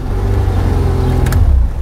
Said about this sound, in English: The engine starts.